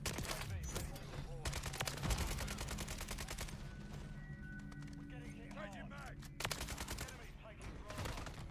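An AK rifle in a shooter game firing in quick repeated bursts, sharp and close, broken by brief pauses, with someone talking through parts of it.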